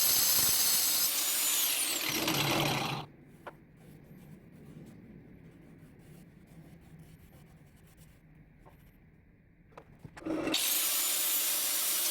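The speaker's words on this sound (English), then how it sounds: "I'm going to file these stones down" Mineral stones inlaid in a turned cypress bowl are filed down by hand, with a steady rasping scrape between louder stretches of nearby workshop noise at the start and finish.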